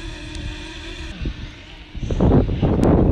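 Gusting wind buffets the microphone outdoors while a DJI Mavic Mini flies, a low rumbling roar that swells louder and rougher in the second half over a faint steady tonal hum.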